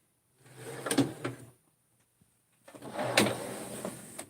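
Toolbox drawer holding gear wrenches sliding open and shut twice, each a close rolling rumble with metal clinks, a pause of near silence between them.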